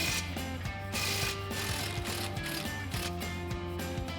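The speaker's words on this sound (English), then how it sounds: "So we'll grab our 18mm socket on our impact." An impact wrench with an 18mm socket spins off the lower shock mounting bolt on a 2016-2024 Camaro, giving a steady close mechanical whir and buzz with a low hum running through the whole stretch.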